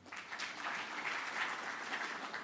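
A university audience at an innovation and exhibition week claps steadily for about two seconds, a soft, even wash of many hands at a distance with no voices over it.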